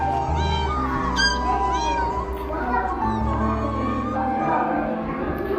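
A cat meows amid busy cartoon-style audio, with voices and music running underneath the repeated cat calls.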